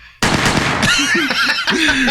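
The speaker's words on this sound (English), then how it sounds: "Can we get a gunshot?" A sudden loud gunshot sound effect erupts from near silence, a sharp blast that leaves a ringing tail while people laugh over it during a comedy game show segment.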